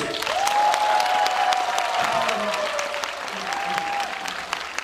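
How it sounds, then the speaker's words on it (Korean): An audience at a stage show by a Korean b-boy and traditional performing troupe bursts into steady, dense applause that continues throughout, with a sustained musical tone running over it. "여러분이 뜨거운 박수 주시면 좋겠습니다"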